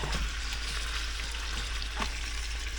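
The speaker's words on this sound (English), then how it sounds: "Stir fry it up. Poke on it, you know. Try to tender it up while it's frying." Beef strips stir frying in a hot pan give off a steady dense sizzle and crackle, with a few soft clicks of stirring and poking, heard close with no talking.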